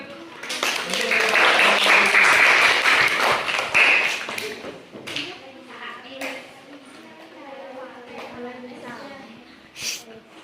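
A burst of applause from classroom students, dense clapping for several seconds that fades out, followed by murmuring voices and a few scattered taps.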